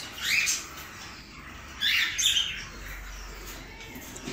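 Tiny high chirps from four newborn nestling birds in a nest, two short bursts of thin peeping close by with quiet pauses between.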